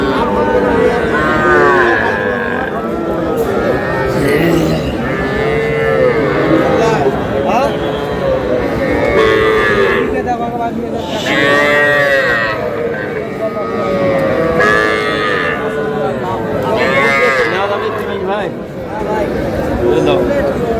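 Bull calves mooing repeatedly, close and loud, among a busy crowd of people talking over one another in an outdoor livestock market in Cumilla.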